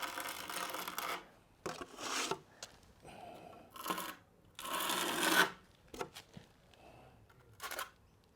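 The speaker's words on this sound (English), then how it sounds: "Now, I can now scrape off any excess." Excess tile adhesive is scraped off freshly laid pool floor tiles in a series of short, close rasping strokes separated by brief pauses, fairly quiet overall.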